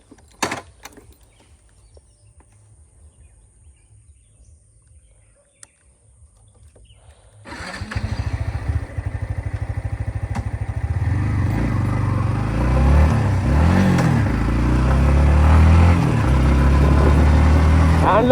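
Yamaha MT-15 V2 motorcycle on a test ride: after a quiet start with a faint click, the engine starts near 7.5 seconds and settles into a loud, steady running drone with rising and falling revs, no talking.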